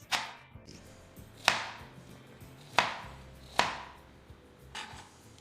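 A knife slices small zucchini into rounds on a cutting board, giving five distinct, crisp chops spaced unevenly apart, close and clear against a quiet room.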